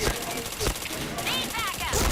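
Rapid bursts of gunfire from a shooter video game, steady and dense across the moment, with sharp shot transients over constant background game noise and some whistling effects.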